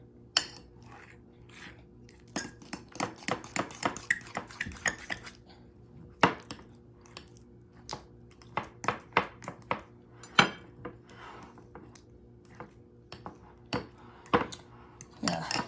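A utensil stirs mashed deviled egg filling in a bowl, producing irregular close clinks and scrapes against the sides in quick bursts with short pauses between them.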